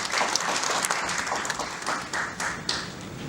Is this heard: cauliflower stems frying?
no